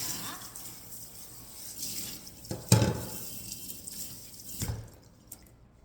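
Salted cucumbers being rinsed in cold water for Korean stuffed cucumber kimchi, quiet close splashing and dripping with a few soft squishy handling sounds.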